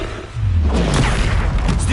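Confringo explosive spell blast in Hogwarts Legacy, a single loud booming burst that swells after a brief lead-in and rumbles on heavily to the end.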